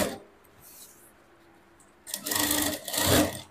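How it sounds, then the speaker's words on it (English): A sewing machine stitches down a hoop skirt petticoat for a ball gown, with two short, close bursts of whirring stitching after a quiet stretch of faint handling. "I just want to go ahead and stitch this down."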